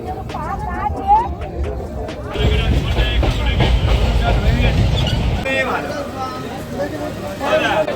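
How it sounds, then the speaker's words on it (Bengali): A train at Lakshmikantapur railway station rumbles and clatters close by, a low heavy roar swelling in the middle and then easing off, while people talk and the platform crowd chatters around it. "এই হচ্ছে লক্ষ্মীকান্তপুর রেলওয়ে স্টেশন"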